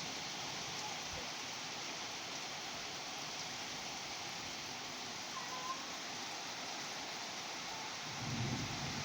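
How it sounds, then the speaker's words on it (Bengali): Heavy rain pours steadily during a thunderstorm over a Bengal village, a dense unbroken hiss throughout, with a faint low rumble of thunder near the end. "এবার কিন্তু ঝড়ের সঙ্গে সঙ্গে বৃষ্টিও নামলো, একেবারে ঝমঝমিয়ে বৃষ্টি চলছে।"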